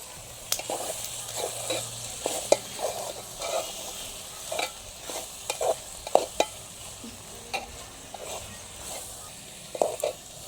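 Turmeric being stirred into an ivy gourd and egg curry in a frying pan: repeated scraping spoon strokes against the pan over a soft, steady sizzle, close up and without voices.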